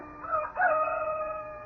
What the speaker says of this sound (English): beckoned by a rooster somewhere